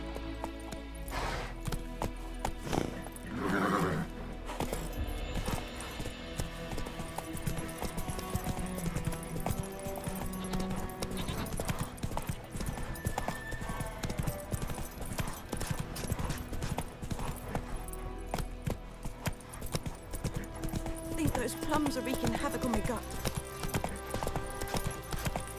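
Horse galloping in the video game The Witcher 3, steady rhythmic clip-clop of hooves throughout at moderate level, with an occasional neigh and faint game ambience.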